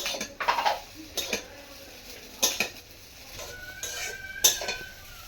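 A metal spatula stirs chicken chow mein with garam masala in a pan, giving a few scattered clanks and scrapes against the metal at close range, with quieter gaps between them and no talking.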